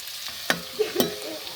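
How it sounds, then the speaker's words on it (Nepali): Onions frying in a pan for egg curry, a soft continuous sizzle broken by two or three sharp spatula clinks and scrapes, close and fairly clear, no speech. "प्याजलाई पनि मजाले फ्राई गर्नुपर्ने हुन्छ।"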